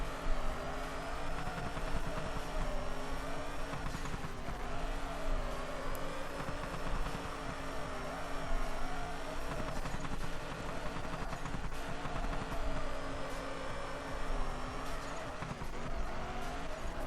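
A drift car in Drift Streets Japan, engine held high and droning with its rear wheels spinning, while tires squeal continuously for the whole stretch. Pitch rises and falls with each slide, and nobody speaks.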